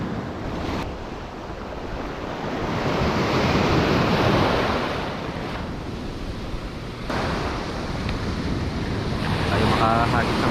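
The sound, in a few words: wind blowing at beach while fishing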